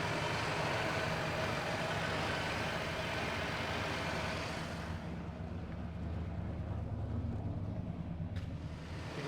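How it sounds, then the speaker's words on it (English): A freshly installed replacement engine in a car called Ella runs steadily with a noisy power steering pump, a dense, constant mechanical drone that eases slightly partway through, close by with no talking. "The power steering pump is a little noisy"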